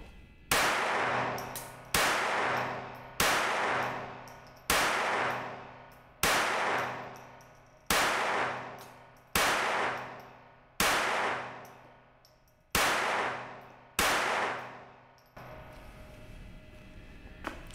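Eleven sharp shots from a Volquartsen Black Mamba pistol fired at a steady, even pace, each loud crack ringing off briefly before the next, followed by quieter ambient noise.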